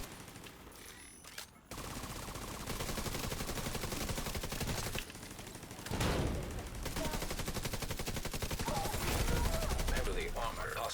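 A video game firefight crackles with sustained rapid automatic gunfire in long dense bursts and brief pauses, loud and close, with a voice talking over parts of it.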